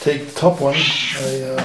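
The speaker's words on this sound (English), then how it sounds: "that's my cat." A pet cat meows in a drawn-out, wavering call while someone talks nearby in a workshop setting, the cat's voice rising and fading between his words.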